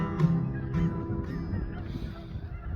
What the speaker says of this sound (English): we have a bunch of geese behind us today